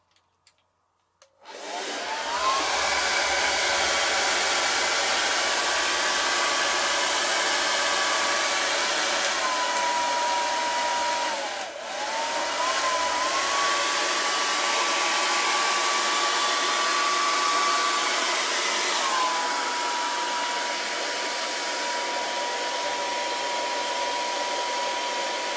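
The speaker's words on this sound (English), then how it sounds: "mute hairdryer." A hairdryer switched on and running continuously for about twenty-five seconds, a loud steady whooshing roar with a faint wavering whine.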